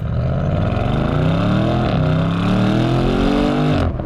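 A BMW M850i Gran Coupe accelerates hard, its engine note rising loud and close in a strong sustained pull, with a brief dip as it shifts before climbing again.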